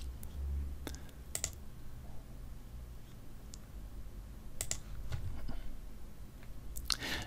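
A computer mouse gives a few sharp, isolated clicks, close and fairly quiet, spaced irregularly over a low steady background hum.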